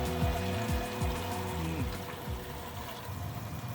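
Water runs steadily through a bucket sluice used for gold prospecting, a continuous close rushing and splashing flow with a low pump-like hum, no voices.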